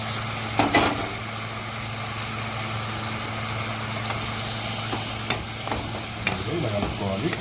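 Fried babycorn manchurian stirred in a hot pan, a steady low sizzle broken by a few scraping clinks of the spatula, close and continuous, with no talking.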